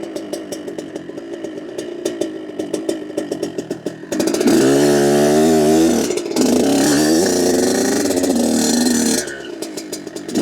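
A motorcycle on a cold day is ridden gently with low shifts while it warms up. Its engine putters at low revs, then climbs into a loud, steady drone with pitch changes, and settles back to a lumpy idle.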